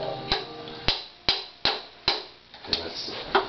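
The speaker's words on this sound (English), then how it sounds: "Should I hammer in the nail?" Hammer striking a nail, about seven sharp, ringing knocks at an uneven, unhurried pace, each fading quickly, close by over a faint background hum.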